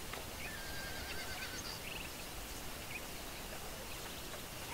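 Wild horses in the video game Red Dead Redemption whinny faintly over a steady wash of outdoor ambience, with a few thin neighs standing out briefly and no talk.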